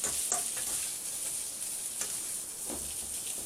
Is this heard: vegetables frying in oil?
yes